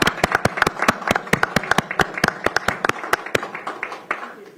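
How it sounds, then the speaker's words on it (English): A small group at a county council meeting claps for community members, a sparse burst of distinct, sharp individual claps in an uneven rhythm, close and fairly loud, thinning out toward the end. "Let's give them a round of applause."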